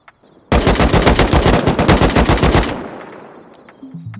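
An AK rifle fires in the survival video game Rust: one loud, sustained automatic burst of about two seconds, with a decaying echo tail after it and no talk.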